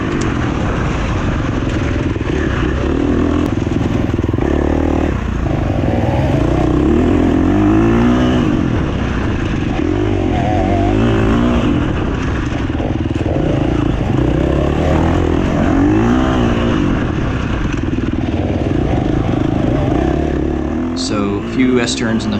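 Motorcycle riding over a field of loose rocks on an off-road course, its engine droning and revving steadily up close throughout, with a rider talking over it.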